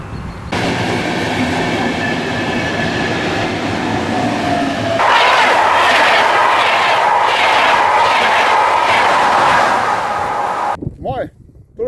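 A passenger train runs on rails with a steady loud rumble, and the noise grows fuller with rhythmic clatter halfway through before cutting off near the end; a voice can be heard over it.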